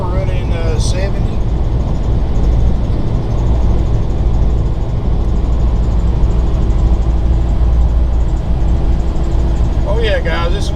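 A 2014 Fleetwood Jamboree Searcher 25K Class C motorhome with 50K miles cruises at about 70 mph, a steady, loud low road-and-engine rumble throughout, with brief bits of voice near the start and end.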